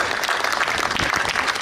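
A conference audience at a 2019 productivity and innovation session breaks into dense, continuous applause, many hands clapping at once and filling the room with a loud, even roar.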